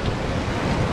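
Tsunami waves surging near Kamaishi city hall, a dense, continuous roar of rushing water with wind noise buffeting the microphone, loud and unbroken throughout.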